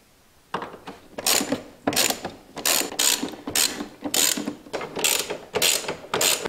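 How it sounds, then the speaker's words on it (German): A ratchet with a T45 Torx bit clicks in quick, repeated bursts while loosening the bolts of a BMW valve cover, close and crisp with no talk. "Die löst ihr an den vier Bolzen hier. Dafür braucht ihr einen T45 Torx."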